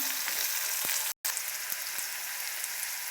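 Peas and green garlic fry for brinjal bharta (ringan nu oro) in a steady, close, hissing sizzle with a few faint crackles. The sound cuts out for an instant, then resumes unchanged, and no one speaks.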